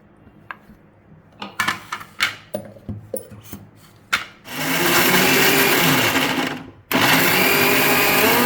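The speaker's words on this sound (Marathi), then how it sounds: "पपईच्या मी आता फोडी केल्या आता आपण मी मिक्सरमधनं बारीक करून घेऊ" Mixer grinder blending chopped papaya into a fine paste: a few sharp clicks and knocks of the jar, then a loud continuous motor whine that cuts off briefly and starts again, close up.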